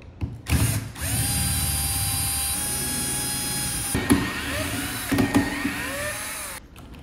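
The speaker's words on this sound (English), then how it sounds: "Next, I'm going to remove this handle." A power tool whirs steadily while a door handle is taken off, with short clicks and clunks of the mechanism near the end, loud and close, and no voice.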